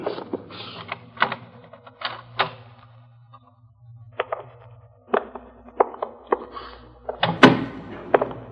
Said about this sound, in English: this door might do it.